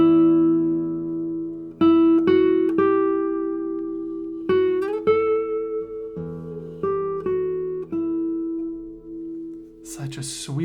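Treble notes on a 1992 Matthias Dammann classical guitar, plucked one by one in a sweet, sustained melodic line, close and clear, with a brief rustle near the end.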